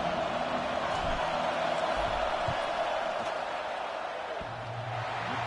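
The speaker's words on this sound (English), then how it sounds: "This crowd trying to do its part to get inside the kicker's head." Stadium crowd at a football game roars steadily while the field goal unit lines up for a fourth-down kick, a dense continuous wash of distant voices with faint thumps and no distinct speech standing out.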